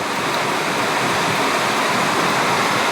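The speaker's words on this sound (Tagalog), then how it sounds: "Lakas ng alon, no? Naririnig niyo mga" Strong sea waves rolling onto the shore at a beach, heard as a steady, loud, broadband wash of surf that fills the whole stretch without breaks or voices.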